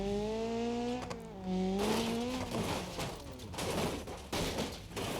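Exhaust note from a car in BeamNG.drive, a droning engine with rising and falling harmonics that turns rougher and noisier partway through, like hard acceleration with tire scrabble, loud and continuous with no talking.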